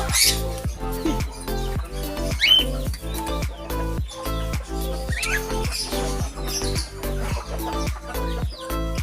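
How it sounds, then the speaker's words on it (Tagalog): Caged birds on a bird farm chirp in quick repeated bursts, many calls overlapping at close range over a steady low background hum, with no talk. "nakapasok ako sa kulungan ng mga ibon"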